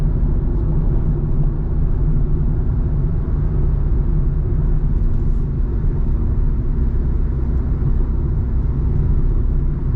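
Car driving along the Malshej Ghat road, a loud steady rumble of engine and tyre noise that holds constant throughout with no breaks.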